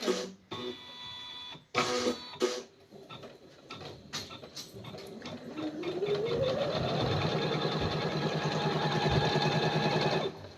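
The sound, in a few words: sewing machine stitching a patch onto a suit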